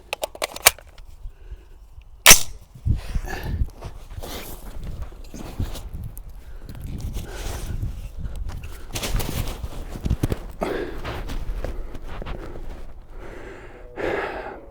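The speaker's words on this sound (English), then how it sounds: "Let's do a 5-round group. With the suppressor on." Suppressed Ruger SFAR rifle firing a five-round group of surplus SM62 ammunition at an outdoor range in Sweden; a sharp loud report lands early, followed by softer thumps and handling noise at irregular intervals.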